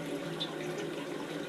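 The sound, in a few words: Japanese toilet tank refilling through hand-washing sink on top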